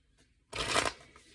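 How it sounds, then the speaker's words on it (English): A tarot card deck being shuffled, a single quick riffle of cards that is close and crisp, lasting under half a second in an otherwise quiet room. "I'm going to go ahead and begin shuffling."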